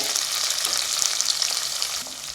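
Two long-sliced onions frying in hot oil give a dense, continuous close sizzle with crackling pops, steady throughout with no talk.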